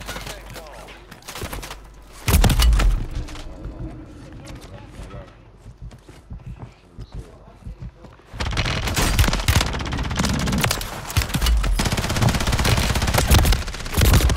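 Sustained, loud automatic gunfire from the video game Call of Duty in two dense stretches separated by a quieter gap, with a voice talking over the action.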